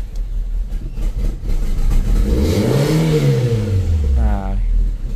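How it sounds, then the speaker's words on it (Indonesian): An old car engine, unstarted for three days, revs up loudly close by, the pitch climbing and falling in a smooth sweep, then a brief second rev near the end. "kita coba panasin mobilnya ini belum dinyalain udah tiga hari ya kita coba gas aja"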